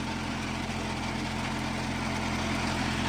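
A new tractor engine runs with a rotary tiller attached, churning wet soil, giving a loud, steady, unbroken mechanical drone with no voices over it.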